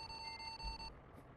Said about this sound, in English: It's gonna start beeping at me.